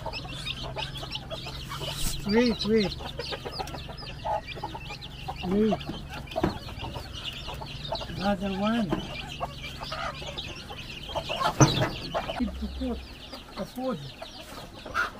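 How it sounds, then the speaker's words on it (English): Small chickens and a rooster cluck in brief repeated bursts close by on a family farm visit, mixed with outdoor noise while people talk throughout. "Oh, look at the chicken."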